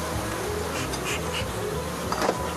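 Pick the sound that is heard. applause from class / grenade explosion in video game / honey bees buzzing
honey bees buzzing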